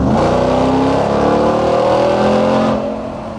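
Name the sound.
2021 Ram 1500 TRX supercharged V8 exhaust growl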